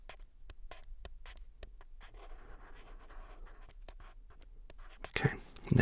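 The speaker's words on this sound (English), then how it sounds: "Gonna get a pencil and mark it. It's a thick lead pencil." A thick lead pencil marks a paper dream journal with short, close scratching strokes and taps in irregular bursts, soft and intimate, followed by a louder rustle near the end.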